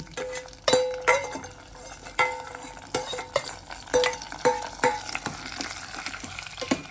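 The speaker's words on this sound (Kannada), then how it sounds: "ಒಗ್ಗರಣೆ ಮಾಡ್ಕೊಂಡಿದ್ನಲ್ವ, ಇದನ್ನು ಮಿಕ್ಸ್ ಮಾಡ್ತೀನಿ." A spoon stirs tempering into spicy pongal in a pan, producing a series of sharp scraping knocks against the metal at an uneven rhythm over a faint sizzle, close up and alone.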